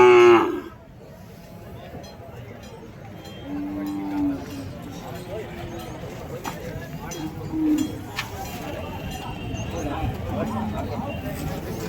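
A young bull calf moos a few times at the busy Kundarapalli cattle market, short low calls heard close amid crowd chatter, hoof clatter and the general clamour of livestock trading.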